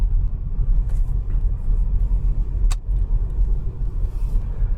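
Road traffic rumbles past outside near Portland Harbour, a low continuous drone of passing vehicles heard through a window, with a brief sharp click partway through.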